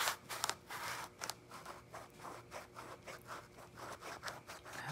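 A knife cuts open a lemon or orange for candied peel, a steady rhythmic sawing and scraping of blade through peel and rind, close up and crisp, with no talking.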